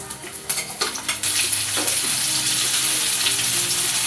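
Stuffed brinjals frying in hot oil with curry leaves, mustard seeds and cumin, a loud steady sizzle with a few stirring scrapes near the start, no voices.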